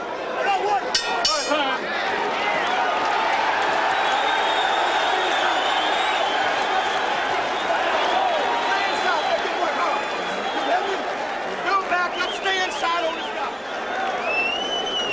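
A boxing arena crowd at a 1989 Roberto Duran versus Iran Barkley fight roars and cheers continuously, a dense, far-off wash of voices with a few sharp clinks, while a commentator talks over it.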